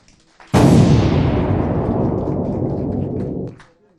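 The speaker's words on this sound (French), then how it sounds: "On applaudit encore." Studio audience applauding on a French celebrity TV show set, a sudden loud burst of clapping that holds steady for about three seconds, then fades out.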